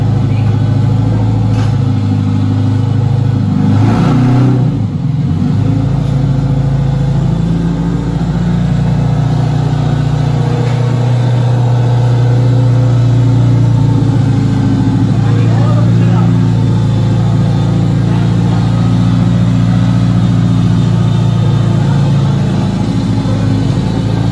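A freshly painted car's engine runs at a steady, loud, low idle as the car rolls out of a paint booth, a constant rumble with a voice talking over it.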